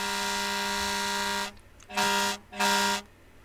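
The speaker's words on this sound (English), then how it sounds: "I'm going to choose fire truck air horn." A fire truck air horn plays as a sound effect: one long sustained blast, then two shorter blasts in quick succession, loud and harmonic-rich with brief gaps between.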